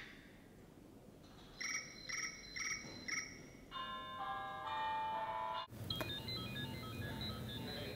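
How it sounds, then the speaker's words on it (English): iPhone alarm ringtones play in quick succession, first pulsing chirpy beeps, then a bright bell-like tone sequence, then another melodic ringtone after an abrupt switch, all clear and fairly quiet. "look through the ringtones and choose the one that you would like to wake up to"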